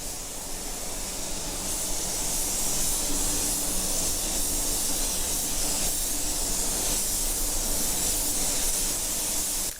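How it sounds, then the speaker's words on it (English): Spray gun laying a very transparent Sparklescent Mango coat over pearl silver on a custom paint job, a loud steady airy hiss that runs unbroken throughout. "And now I'm applying Sparklescent Mango over the top of the silver."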